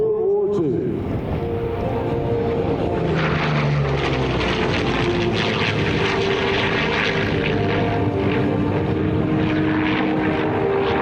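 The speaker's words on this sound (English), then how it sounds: "Let's watch and listen to the incredible sounds of history, ladies and gentlemen. The P-40 Warhawk." A P-40 Warhawk, a World War II fighter, flies at an air show, its propeller engine droning loudly and steadily throughout, with pitch shifting as it passes, and a crowd or announcer faintly underneath.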